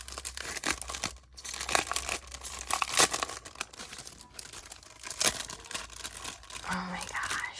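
Paper crinkles and tears as a happy-mail package is opened, close and quiet, a steady rustling with sharper rips while someone talks softly over it.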